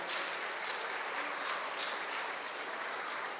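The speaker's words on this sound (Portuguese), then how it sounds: "Vamos aplaudir o Senhor mais uma vez pela vida dessas mulheres." A church congregation at a Methodist Sunday evening service applauds steadily, a dense even wash of clapping that fills the whole moment without pause.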